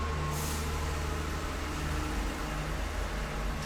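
A truck passes outside with its air brakes, heard as a steady, heavy broadband rumble of engine and road noise, with a short sharp hiss of released air near the start.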